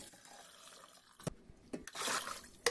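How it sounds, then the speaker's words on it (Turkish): Water splashes and trickles into a cooking pot in quiet, uneven pours with a few clinks, close by and fairly soft. "Üzerine suyla dolduruyorum."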